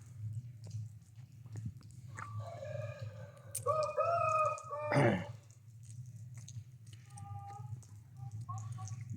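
Rooster crowing at a poultry sale yard where Aleksey-breed fowl are kept, one long clear crow rising above steady low background hum, followed by shorter fainter calls from other birds nearby.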